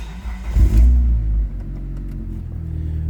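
A 1999 Plymouth Neon engine cranks and catches with a brief loud revving burst, then settles into a steady low idle, close by with no talk.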